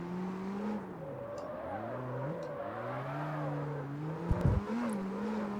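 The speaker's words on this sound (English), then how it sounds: "I don't know why we're getting pops with this engine," A modified S-chassis car's engine revs in the CarX Street racing game, its whining tone rising and falling through the gears, with a short burst of exhaust pops near the end and no voices.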